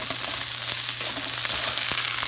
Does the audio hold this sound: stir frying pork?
yes